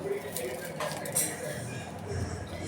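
Salted fish being stirred in a pot for fish curry, with metal spoon scrapes and clinks against the vessel sounding close by, mixed under ongoing talk.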